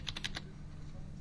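Four quick taps on a computer keyboard as a passcode is entered, close and fairly quiet, followed by a low room hum with no talk.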